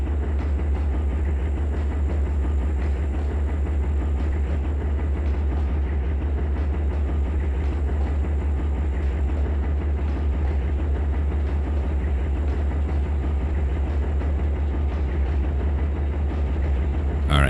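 A train running in Trainz 2022 on the Tidewater route, a steady low rumbling drone with faint rhythmic clatter, continuous and even throughout.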